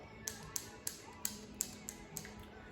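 Magazine release latch on a Ruger 10/22 rifle, pressed again and again: seven sharp, faint clicks at a quick, fairly steady pace over quiet room tone.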